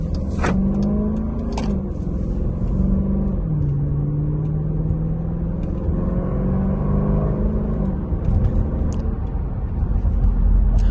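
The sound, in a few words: 2021 Dodge Durango R/T driving, engine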